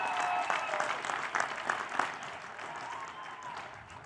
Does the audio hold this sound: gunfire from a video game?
no